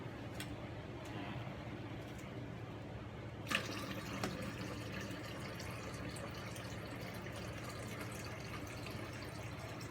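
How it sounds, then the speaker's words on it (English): Water is poured into a single-cup coffee maker, a soft continuous trickling and filling with faint drips and a small clatter partway through, steady and fairly quiet. "That is water being poured into the coffee device."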